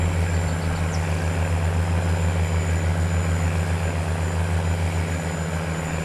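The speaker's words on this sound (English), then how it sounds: "I think this Steiger case tractor is going to work out rather well for us." Case Steiger articulated tractor in Farming Simulator 19, its engine a loud, steady low drone with a rhythmic pulsing throb running unchanged for the whole stretch, with no talk over it.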